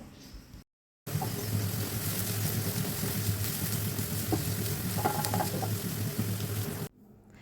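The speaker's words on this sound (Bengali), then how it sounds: "এ পর্যায়ে পেঁয়াজ কুচিগুলোকে হালকা বাদামি রং করে আমি ভেজে নিব" Chopped onions fry in hot oil in a pan, a steady close hiss and crackle that runs continuously after a brief silence, with faint clinks partway through.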